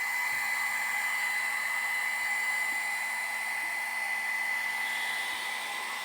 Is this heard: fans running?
yes